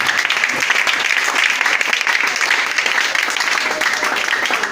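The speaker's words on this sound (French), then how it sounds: "Acclame puissant." A church congregation breaks into loud, continuous applause, dense clapping that fills the room for several seconds.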